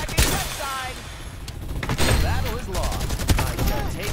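Shotgun blasts ring out in a Farlight 84 gunfight, several sharp reports scattered among game effects and background battle noise, with voices talking over the action.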